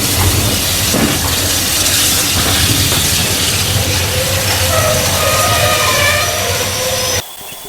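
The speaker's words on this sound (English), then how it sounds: "this is where they take the engine off and move it round to the other end of the train" A steam train idles at a station on the Keighley & Worth Valley Railway while its engine is uncoupled, hissing and rumbling steadily with faint metallic clanks, before the sound cuts off abruptly near the end.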